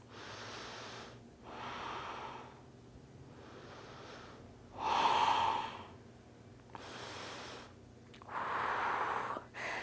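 Slow, deep breaths during a prenatal yoga flow: long airy inhales and exhales repeat in a steady rhythm several times over, close and fairly soft, with no talking.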